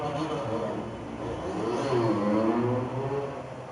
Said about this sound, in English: That's not a motorbike. That's an e-bike.